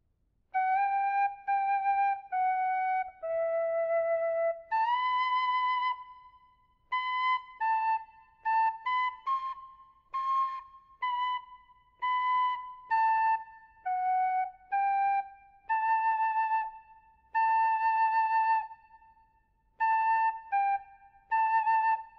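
Tin whistle in D plays a bagpipe tune, a clear, bright solo melody of sustained and quickly ornamented notes with short breath gaps between phrases, close and alone.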